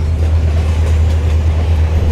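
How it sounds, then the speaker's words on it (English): Passenger train on a safari route in Kenya, riding steadily with a loud, continuous low rumble of the carriage and faint rail noise, no voices over it. "this is like a safari train ride."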